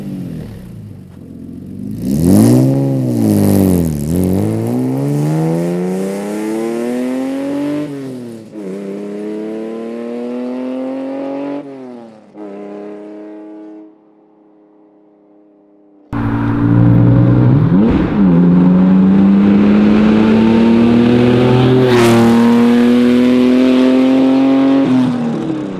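A 2000s R53 Mini Cooper S revving hard through several gear changes, pitch climbing and dropping, then a brief quiet before another loud acceleration with a throaty exhaust.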